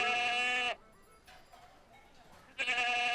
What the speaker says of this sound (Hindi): किसकी बकरी? किसकी बकरी है?